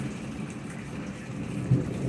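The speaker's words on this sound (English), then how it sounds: "But you can probably hear the thunder." Steady rain in a Round Rock, Texas thunderstorm with tornado warnings, a soft continuous patter and hiss with a low rumble of thunder swelling briefly near the end.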